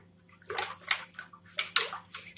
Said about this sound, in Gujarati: આમાં આપણે થોડું જ પાણી એડ કરીશું કારણ કે મઠમાં પણ થોડું પાણી છે એટલે એ પ્રમાણે એડ કરું બધું સરસ મિક્સ કરી દઈએ